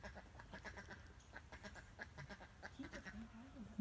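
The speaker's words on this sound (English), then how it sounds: "There's ducks." Several ducks quack repeatedly on a residential farm, a steady run of nasal calls at moderate distance, with a brief low voice near the end.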